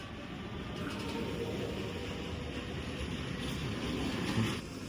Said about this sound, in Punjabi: ਦੇਖੋ ਆ ਤਾਂ ਟ੍ਰੇਨ ਚੱਲੀ ਆ ਆਪਣੀ